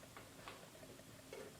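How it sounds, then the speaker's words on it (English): A small dog's claws click faintly on the floor as she wanders about indoors, a few light, irregular taps set against quiet room tone. "If you can hear clicks in the background, it's my wee dog"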